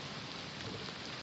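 Steady rain falls outdoors during a monsoon outing, a dense even hiss with no gaps, faint and continuous.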